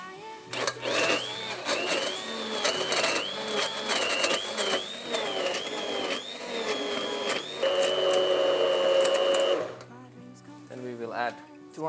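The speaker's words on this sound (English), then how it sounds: "Then we will blend it." An electric blender whirs through softened dates for a date cake, the motor pitch rising and dipping in pulses before a steady high run, then cutting off; a voice speaks over part of it.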